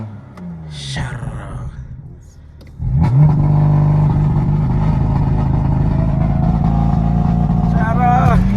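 BMW M3 F80 with an equal length exhaust, a low idle, then a sudden loud rev that holds a strong droning roar for several seconds, ending with a rising burst and crackle.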